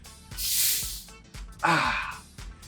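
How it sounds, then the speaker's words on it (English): Two breathy hissing bursts of carbon dioxide escaping as a soda bottle opens, the first a long airy whoosh and the second a sharper fizzing rush, close and loud. "That's the sound of carbon dioxide trying to escape as fast as it can."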